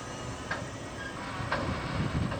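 A freight train rolls past at a steady pace, a continuous rumble broken by a couple of sharp metallic clanks from the cars.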